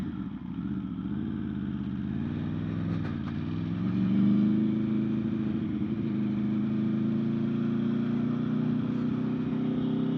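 A 2026 Aprilia Tuono V4 Factory motorcycle being ridden, its engine droning steadily and close with a rise in pitch midway as it accelerates, then holding a strong, even hum without any talk.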